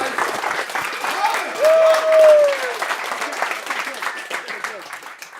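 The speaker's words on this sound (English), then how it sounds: "Let's give a round of applause to my round of applause." Audience applause and a standing ovation at a financial summit in January 2024, a broad steady clapping crowd with cheers and a whistle rising briefly in the middle, voices mixed throughout.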